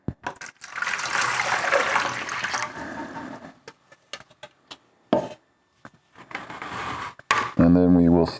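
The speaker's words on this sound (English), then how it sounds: "So first I'm going to put in the water." Water runs and splashes into a container while a batch of pottery glaze is being mixed, a steady gush for a few seconds followed by scattered knocks, clatter and a short burst of talk at the end.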